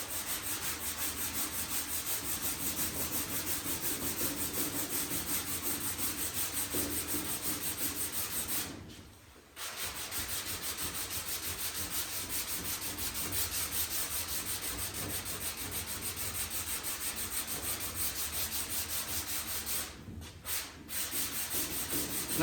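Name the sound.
sanding block on car bodywork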